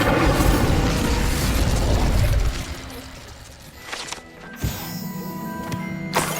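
Incendio fire spell in Hogwarts Legacy, a loud burst of crackling, roaring flame that dies down after a couple of seconds, followed by quieter ambient game sounds and sharp clinks.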